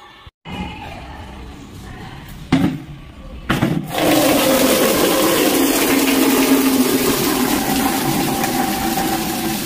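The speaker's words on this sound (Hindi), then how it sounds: "अभी लाते हैं इसमें पानी।" Tap water gushes loudly and steadily into a bucket in a medical college hostel, starting after a few knocks and clunks and continuing as a constant rushing roar.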